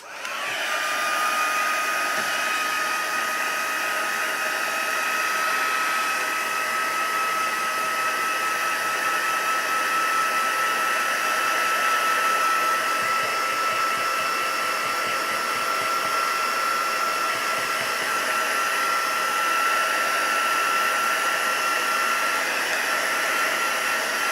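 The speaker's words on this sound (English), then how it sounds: "I just dry it off slightly with the heat gun, so excuse the noise" A steady, loud whirring blast of hot air from a heat gun, running continuously at close range with a constant high whine.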